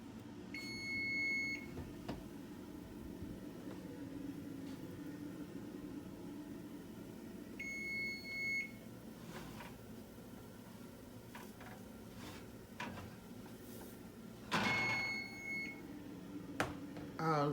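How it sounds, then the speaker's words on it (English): A kitchen timer sounds after dog cookies bake, giving short clusters of high electronic beeps spaced several seconds apart over low room noise and faint talk. "the timer is beeping, which means 12 minutes are up"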